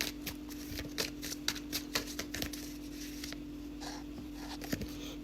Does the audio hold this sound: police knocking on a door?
no